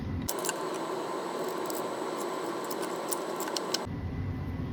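A metal timing chain for an Audi VW 2.0T engine rebuild rattles and jingles in a workshop, a soft, continuous clinking with a few sharper links knocking together, no voices.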